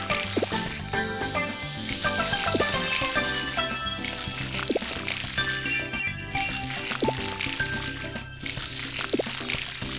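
Watering crops in the farming game Harvest Moon Light of Hope: soft splashing and pouring water effects repeat over steady, melodic game music.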